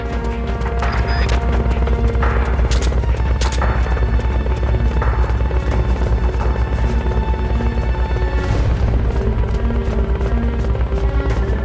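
Helicopter in the stealth game Metal Gear Solid Peace Walker, a steady rotor throb and hum running loud and continuous throughout, with occasional crashes and bangs from the game scene over it.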